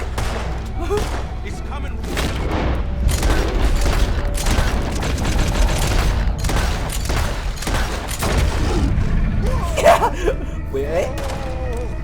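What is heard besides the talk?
gunfire in the video game Red Dead Redemption 2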